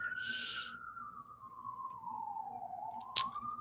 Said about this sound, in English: there's something in Harlem going on with the sirens